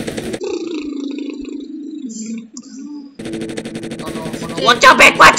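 Rapid automatic gunfire in a Roblox game, loud fast bursts near the end after a stretch of talking voices.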